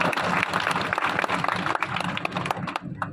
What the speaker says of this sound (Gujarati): એકવાર જોરદાર તાળીઓ પાડી